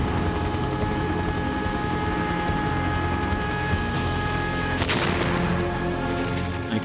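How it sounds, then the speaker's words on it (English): Gunfire and helicopter rotor noise from an animated Mega Man cartoon dogfight between choppers, a dense continuous barrage of shots and engine drone with a sharp burst near the end. "It's a full-on dogfight, but oh no! Black Hawk down!"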